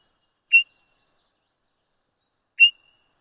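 A bird identification app plays a bird's song: two short, bright whistled chirps about two seconds apart, loud and clear against silence.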